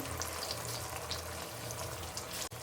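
Tomato paste hits hot oil with cumin seeds in a pan, giving a soft, steady sizzle and crackle at low volume, with a brief dip near the end.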